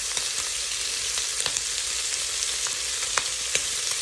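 Bacon fries in its own rendered fat in a hot pan, a steady bright sizzle dotted with small pops and crackles, close and continuous with no talk.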